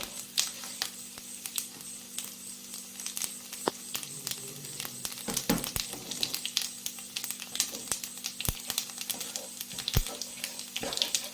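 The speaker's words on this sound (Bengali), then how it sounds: "তেল গরম হয়ে গেছে। লঙ্কা একটু মুখটা ফাটিয়ে নিচ্ছি।" Slit chillies hit hot oil in a pan and set off a steady, close crackle of sharp pops and spits that keeps going throughout, with no talking.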